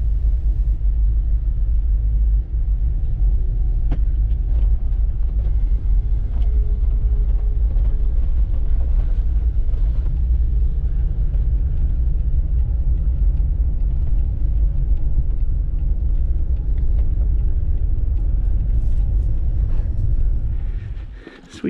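A car rolls along the road into Many Glacier in Glacier National Park, heard from inside as a loud, steady low rumble of engine and tyres that fades out at the end.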